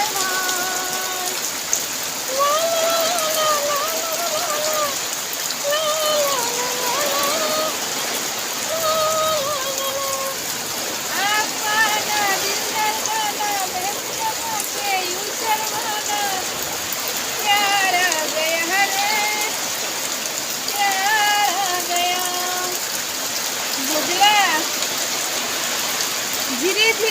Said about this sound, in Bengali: দেখো দেখো কি বৃষ্টি কি বৃষ্টি, ঘর বৃষ্টি তুফান